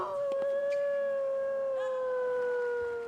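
A dog in Final Fantasy XIV gives one long, sustained, close howl that slowly falls in pitch across three seconds, with a couple of short yips at the start.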